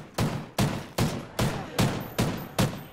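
Rapid shots from a first-person shooter search-and-destroy match crack out in a steady rhythm, about seven sharp, loud reports spaced evenly over a few seconds with no talk.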